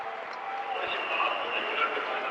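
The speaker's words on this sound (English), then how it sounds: "And Bucklew gets quite a hand from the crowd." A college men's basketball crowd applauds as a player checks into the game, steady sustained clapping and cheering filling the arena for the whole stretch.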